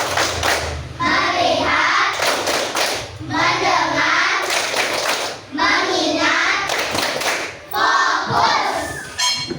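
A group, likely children, plays a rhythmic counting clap game in four bursts of claps and thumps, separated by short pauses, with chanting voices over them.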